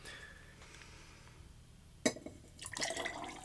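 Black tea poured into a bourbon cocktail glass with maple syrup, a short liquid pour with a clink midway, followed by a louder trickling fill near the end, close and clear without talk.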